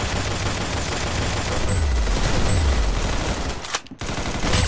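Dense, nonstop gunfire rattles through a match of the Roblox shooter Arsenal, a steady loud fusillade of rapid shots with a brief dropout near the end before the firing resumes.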